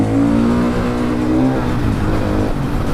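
A KTM 500 EXC supermoto motorcycle revs hard and accelerates, its single-cylinder engine loud and close, the pitch climbing steadily before easing off near the end.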